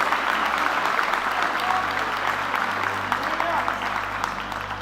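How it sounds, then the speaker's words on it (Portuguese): A church congregation applauds loudly and steadily throughout, with dense sustained clapping and faint crowd voices mixed in. "aplauda bem forte"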